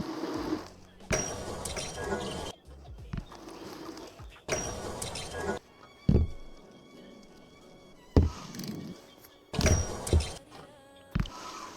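Short metallic peg taps and thunks from the BMX Streets game on PlayStation, scattered irregularly between bursts of music and effects, with no continuous scraping grind sound between them.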